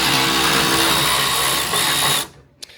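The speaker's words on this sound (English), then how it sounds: "drilling some holes to get some of the water out" A power drill bores holes in a 2014 Honda Accord, whining loud and steady at close range for about two seconds before it cuts off, followed by one faint knock.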